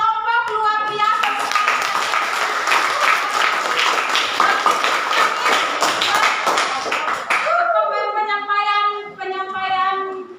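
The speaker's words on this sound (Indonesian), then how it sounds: "mari kita berikan tepuk tangan untuk semua kelompok luar biasa" A secondary school classroom of students breaks into steady applause for their group presentations, lively clapping for several seconds before it fades out and a voice speaks over the room.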